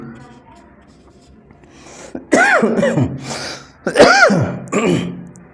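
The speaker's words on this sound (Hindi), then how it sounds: "खांसी हो रही है यार।" A few harsh, close coughs in quick succession after a quiet stretch, each a strained rasping burst.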